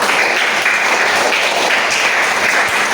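A classroom full of students bursts into steady applause during a teacher performance assessment, with dense, even clapping that stays loud and close for the whole stretch without letting up.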